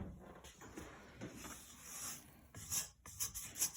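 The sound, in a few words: scraping the sides of a mixing bowl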